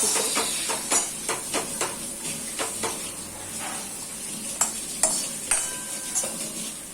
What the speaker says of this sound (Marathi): आता आपण लसूण आणि जे खडे मसाले आपण जे घेतले ते आपण भाजून घ्यायचे।